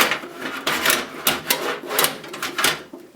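A computer power supply is shoved into its socket in the case, producing a series of close, hard plastic-and-metal knocks and scrapes in an uneven rhythm of about five or six pushes.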